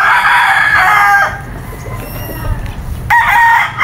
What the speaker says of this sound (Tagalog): Ito karami mga manok dito ni Boss Yob.